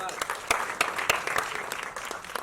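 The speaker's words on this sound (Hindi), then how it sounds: "तालियां।" Audience applause at a music event marking a singer's debut album, a burst of scattered claps of moderate loudness, with a voice speaking over it.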